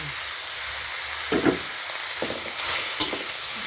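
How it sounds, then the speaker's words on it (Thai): Pork stir-frying in a pan gives a steady hiss of sizzling oil, with a few brief scraping stirs near the middle and end. "ผัดไปเรื่อยๆค่ะ ตอนนี้หมูของเราก็เหลืองแล้วนะคะ สุกแล้วค่ะ"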